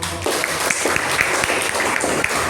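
A classroom of students applauds one student, a moderate patter of clapping with some sharper individual claps standing out.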